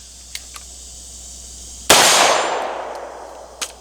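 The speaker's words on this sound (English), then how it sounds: "these are like literally its first shots outside of getting sighted in" A single loud gunshot from a 14.7-inch CHF AR upper, a PSA Gen 2, cracks outdoors and rings off in a long decaying tail, with a few faint clicks around it.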